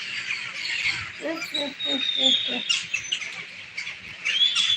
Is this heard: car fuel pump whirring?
no